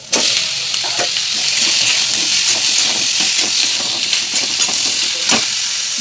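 Vegetables drop into a pan of fish curry with mustard-yellow gravy, setting off a loud, steady sizzle and hiss, with light scraping and clinking of stirring throughout.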